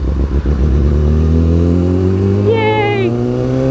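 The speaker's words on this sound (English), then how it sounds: "Ooh, must be a motorcycle." A motorcycle passes close by, its engine note rising and then sliding downward in pitch as it goes by, heard from the seat of a BMW S1000RR sport bike whose own engine hums steadily underneath.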